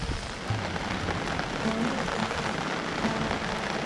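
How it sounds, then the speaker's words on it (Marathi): Heavy rain pouring steadily at a temple site in coastal Maharashtra, a dense, even wash of hiss and patter with no breaks, moderately loud and close throughout. "अजून पण पाऊस सुरू आहे"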